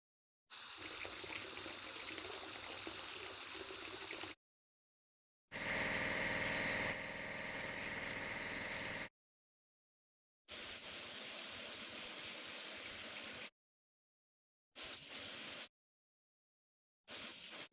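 A lifeboat gets washed in a kids' vehicle game: bursts of spraying, rushing water with a motor-like hum, arriving in separate chunks of several seconds with silent gaps between them.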